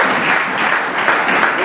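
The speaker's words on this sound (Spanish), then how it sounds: "Un aplauso fuerte" Loud, sustained applause from a congregation during a Sunday church service, a dense steady clapping wash lasting the whole moment without a break.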